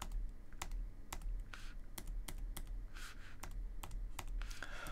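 Keystrokes on a computer keyboard entering a shortcut in PreSonus Studio One, a series of sharp, irregular clicks spread across the clip, close and moderately loud, with no talking.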